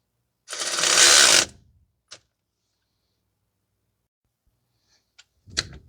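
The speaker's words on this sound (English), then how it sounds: "tighten down the 14 millimeter bolt" A ratchet tightens a 14 millimeter bolt on a 2010 Toyota Corolla 1.8 during a drive belt replacement, one dense burst of rapid clicking lasting about a second, then a single click and a short clatter of tools.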